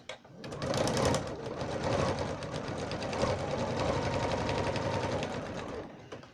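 A sewing machine stitches binding onto a pot holder, a steady rapid mechanical whir with fast needle clatter running nearly continuously, close and moderately loud, pausing briefly near the end.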